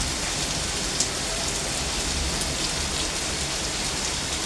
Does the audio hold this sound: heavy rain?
yes